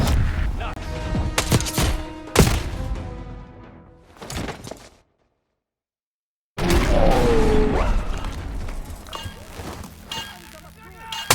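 Rapid gunfire crackles in a Black Ops 6 firefight, dense bursts of shots and impacts that cut off into a brief silence before the shooting resumes loudly, with shouted voices mixed in.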